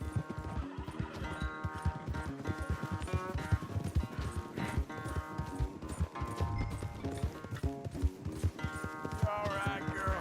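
Horse hooves galloping in Red Dead Redemption 2 during a race, a fast rhythmic clip-clop running steadily under game music and other sound.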